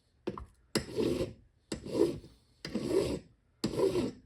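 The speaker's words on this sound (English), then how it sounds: "So, I'm going to try my luck at just filing this down" A hand file rasps back and forth across a Holley one-barrel carburetor float bowl part in five distinct, evenly spaced strokes, close and moderately loud, with short silences between them.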